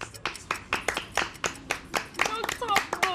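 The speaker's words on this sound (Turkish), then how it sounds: "Bir dakika boyunca alkışlayın." Hands clap in a steady run of sharp, close claps, about three or four per second, with speech over them near the end.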